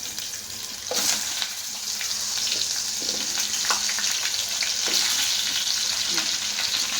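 Cut raw mango pieces frying in hot tempering oil with curry leaves for mango pachadi, a bright steady close sizzle with occasional stirring scrapes and no voices.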